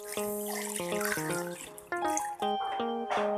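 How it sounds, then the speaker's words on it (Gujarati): Cold water being poured into a lemon shikanji mixture, a continuous close pour with gurgling, bubbly tones shifting as the vessel fills, moderately quiet and without talk. "હવે આની અંદર આપણે ઠંડુ પાણી નાખીશું"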